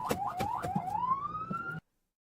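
A police car siren wails in the Project Zomboid video game, rising and sweeping upward through several whooping cycles. The steady electronic tone sits over low engine rumble and cuts off abruptly.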